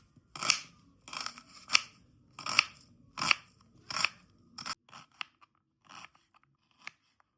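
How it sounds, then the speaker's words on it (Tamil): A medium onion being finely chopped for a street-style karandi omelette, heard as a run of about eight crisp, crunchy cuts at a steady rhythm, close and alone, followed by a few softer, fainter strokes. "முதல்ல ஒரு மீடியம் சைஸ் வெங்காயத்தை பொடியாக அரிஞ்சிக்கலாம்"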